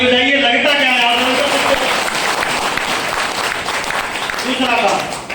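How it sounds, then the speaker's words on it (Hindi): An audience at an RCM motivational speech claps when prompted by the speaker: continuous crowd clapping through the middle, with a voice speaking over it at the start and end. "ताली बजाइए"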